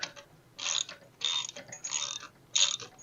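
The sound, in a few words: ratchet with 17mm socket tightening bolts on jobsite saw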